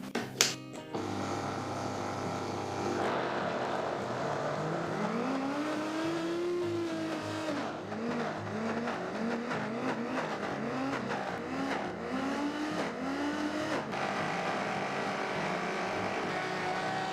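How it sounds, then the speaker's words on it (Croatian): A blender whirs through flourless protein brownie batter with muscovado sugar, its motor whine surging and dropping in repeated rising and falling pulses for an extended stretch. "Ili to obradimo u blenderu."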